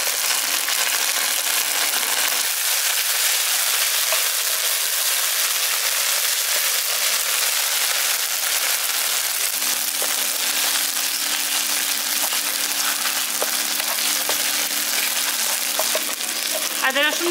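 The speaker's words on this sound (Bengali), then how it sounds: "আদা রসুন বাটাটা দিয়ে আমি একটু ভাজা ভাজা করে নিচ্ছি" Browned onions and ginger-garlic paste fry in a pan, giving a loud, continuous sizzle with stirring scrapes throughout and no talking.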